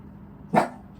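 A dog gives a single short bark, fairly close and clear, against a quiet background with no one talking.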